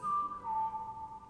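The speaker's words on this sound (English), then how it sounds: "Are you whistling?" Someone whistles a short melody of a few sustained tones, clear and close, in a Zelda: Ocarina of Time 3D playthrough.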